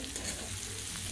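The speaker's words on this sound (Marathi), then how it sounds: "कांदा घालून घ्यायचा आहे, तो पण फ्राय करायचा आहे" Chopped onion sizzles steadily in hot oil for poha, a dense, even crackle with faint stirring throughout and no voices.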